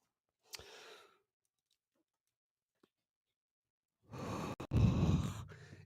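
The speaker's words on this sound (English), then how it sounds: "You may be hearing me breathing." A person breathes close into a microphone: one short exhale early on, then near silence, then a louder, longer run of heavy breaths and mouth noise at the end, with no words spoken.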